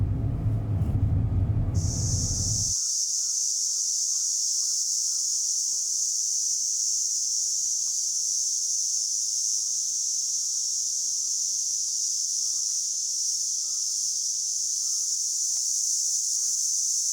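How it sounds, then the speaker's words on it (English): Loud, continuous cicada drone fills the humid August heat on Sado Island, Japan, a steady high buzzing that starts abruptly after a brief low rumble and holds unbroken throughout, with no talking. "This humid August heat is inseparable from the loud cicada noise."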